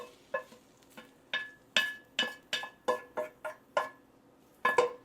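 Swedish meatball mixture with caramelized onions is mixed in a bowl; about a dozen sharp clinks of a utensil against the bowl come in an uneven, brisk rhythm, close and fairly quiet.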